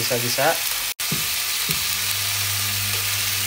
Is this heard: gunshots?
no